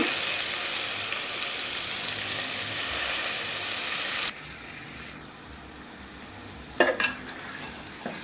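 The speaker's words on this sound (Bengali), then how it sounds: "এখন আমি ডালগুলো দিয়ে দিব" Lentils tipped into a pan of spice paste frying in oil bring a steady loud sizzle that drops suddenly halfway, then settles into quieter frying with brief stirring clatter near the end.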